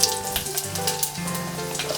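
Mustard seeds, cumin and red chillies sizzle and crackle in hot oil in a pan, a steady close frying hiss with small pops, no talking.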